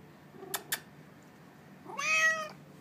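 Two soft clicks, then a clear, fairly close cat meow rising and falling, heard alone against a quiet background.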